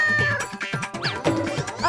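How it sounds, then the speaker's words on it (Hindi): Cartoon cat meowing in several drawn-out, wavering cries in quick succession, loud and close over faint background sound. "कहाँ से आ रही थी बिल्ली की आवाज?"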